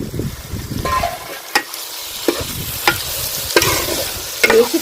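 Marinated chicken pieces tossed into a hot pan for chicken curry, sizzling steadily as a spoon stirs and scrapes, with several sharp clanks of utensil against the pan rising above the frying.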